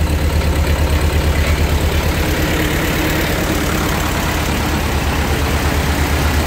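A restored Ford 8N tractor engine idles steadily up close, its low, even chugging loud and unbroken, with the carburetor still not quite right.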